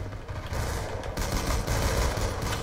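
Rapid gunfire from the video game Call of Duty: Black Ops II in gun game mode, a continuous loud clatter of shots that swells slightly partway through.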